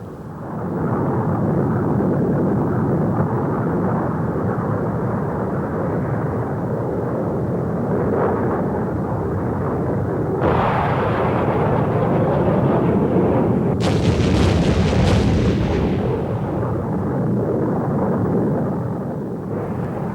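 Bombs dropped in an A-4 Skyhawk attack explode in a series of deep, booming blasts with rolling rumble, including heavier detonations mid-clip, heard loud and continuous without speech.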